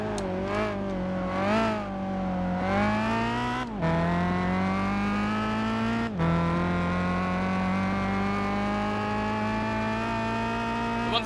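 A high-revving race car engine in the video game Gran Turismo 5 drones steadily and loudly, pitch rising through the gears with brief dips at each shift, no talk over it.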